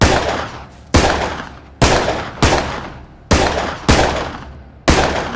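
Seven loud, close pistol gunshots in Contagion VR Outbreak, fired at an uneven pace roughly a second apart, each one a sharp crack whose echo decays before the next.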